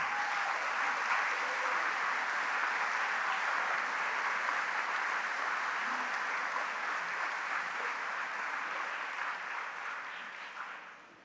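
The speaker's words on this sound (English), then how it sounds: "Please join me in a round of applause for the current Hall of Famers" Steady applause from the audience at a college athletic Hall of Fame induction ceremony, honoring returning Hall of Famers; dense, even clapping holds for about ten seconds, then fades out at the end.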